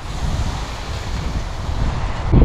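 Strong wind blasts over the microphone during a Skyman Speed paragliding flight, a loud, steady low rumble that swells near the end.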